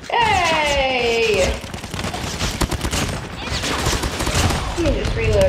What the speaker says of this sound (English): Yeah, I'm a stealthy machine gun. Stealthy machine gun.